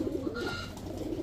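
Racing pigeons from a club, wearing leg tags, coo in soft rounded low calls that repeat steadily through the short stretch, close by and moderately quiet, with no one talking.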